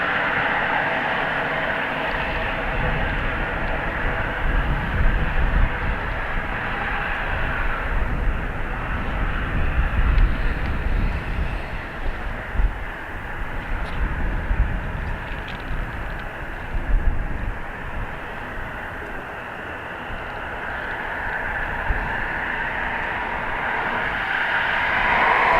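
A jet airliner takes off at Dublin Airport bound for Birmingham, its engines giving a steady broad roar with faint wind noise over the whole stretch, loud and close without a break.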